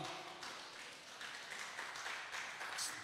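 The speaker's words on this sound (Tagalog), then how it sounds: "Isa nga pong malakas na palakpak para sa ating Panginoon." Faint, steady applause from a church congregation during a Jesus Celebration worship service, a wash of many hands clapping at a distance for about three seconds without a break.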